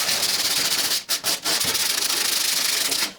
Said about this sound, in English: Go ahead and take some sandpaper. I got some 80-60 grit here. Just going to go and sand this down.